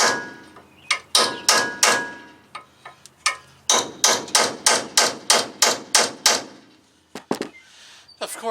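A hand hammer and chisel pound on a work truck's lower ball joint, a rapid series of sharp, loud metallic strikes in uneven bursts with brief pauses between them.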